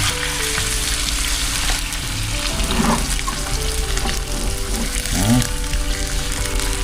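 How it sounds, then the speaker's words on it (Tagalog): Coconut milk goes into fish cooking in a pan for a simple ginataan, bringing a loud, continuous close sizzle broken by a few stirring scrapes. "Lagyan na rin natin yung ating gata."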